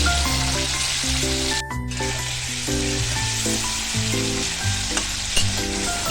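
Fish frying lightly in mustard oil in a wok, a steady close sizzle that runs throughout with a few soft stirring knocks and a brief dip partway, no talking.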